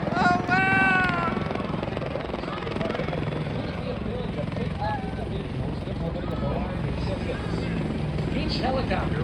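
A helicopter flies over an air show, its steady rotor and engine roar running throughout beneath excited voices and crowd chatter.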